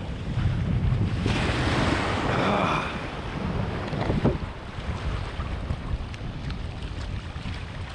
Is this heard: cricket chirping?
no